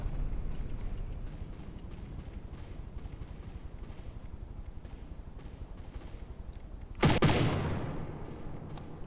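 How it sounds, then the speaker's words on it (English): One heavy explosion bursts out in a naval battle video game, loud and sudden over a rapid, steady clatter of distant gunfire. "We're seeing explosions come in now."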